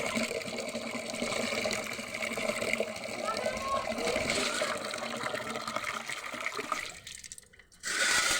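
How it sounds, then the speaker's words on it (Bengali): Leafy greens being washed by hand in a bucket of water give a steady close sloshing and splashing, which briefly quiets near the end before resuming. "এই শাকগুলোর মধ্যে প্রচণ্ড বালি থাকে, আমি ধুয়ে নেবো শাক কটা।"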